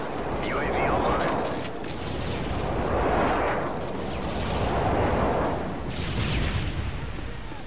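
Deep rolling airstrike explosions in Call of Duty Modern Warfare 3 multiplayer, three or four heavy booming swells one after another, broad and rumbling under a busy battle mix with scattered gunfire.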